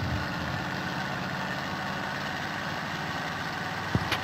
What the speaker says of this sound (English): this engine sounds so loud in my ears